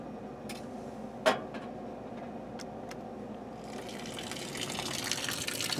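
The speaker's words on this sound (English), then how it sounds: "we're gunning the radiator and the block now, so the water's pretty clean" Water flushes through the radiator and engine block of a Dodge 440, a soft gushing flow that swells and grows louder toward the end, with a few sharp clicks early on.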